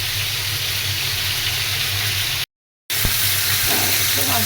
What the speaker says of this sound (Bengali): মাছটা হালকা ভেজে নিলাম